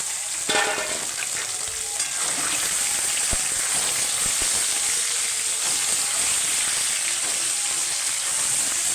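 Chicken pieces frying on deep-browned onions in a pan give off a loud, steady, close sizzle that runs without a break, with a few soft stirring knocks and no voices.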